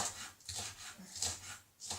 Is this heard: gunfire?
no